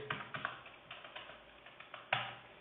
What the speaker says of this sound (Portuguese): eu vou ter de vir aqui e digitar 10 valores